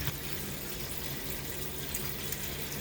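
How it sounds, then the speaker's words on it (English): Water rushes steadily into a toilet bowl as it refills during a fill valve replacement, a constant, fairly quiet hiss and trickle with no voices. "So if we look at the toilet bowl, it is filling up with gross water."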